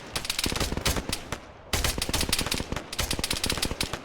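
Rapid bursts of gunfire in an Arma game session, loud and dense, with continuous automatic fire broken by a short pause before resuming as soldiers take bullets.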